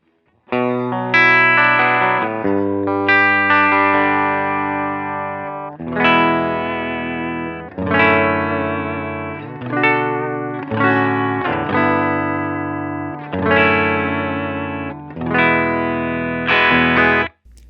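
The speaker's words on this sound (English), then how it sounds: "So that's supposed to model like a vintage deluxe reverb." An electric guitar through a Strymon Iridium amp simulator pedal, set to a vintage Fender Deluxe Reverb model, plays chords and short phrases in repeated bursts, with a shimmering, lightly driven amp tone and reverb tails between strums.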